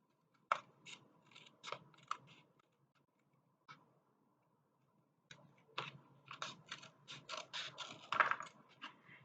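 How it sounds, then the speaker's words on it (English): Scissors snipping a cardboard toilet paper tube for a craft, a run of soft crisp cuts, a pause, then a denser burst of snips, quiet and close with no talk. "take your scissors and just trim those"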